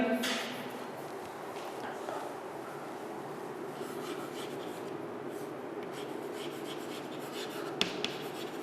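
Chalk or a marker writes on a board during a class 10 chemistry lesson, a soft continuous scratching and tapping heard from a distance in a roomy space, with a couple of small knocks near the end.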